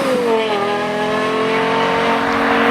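A Lexus LFA supercar engine revs loud and close, a high rising harmonic wail that climbs and holds steadily with no voices over it.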